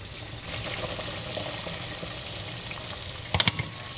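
A pot of salted water boils on the stove for palabok seafood noodles, a soft steady bubbling, then a few sharp clinks of utensils near the end.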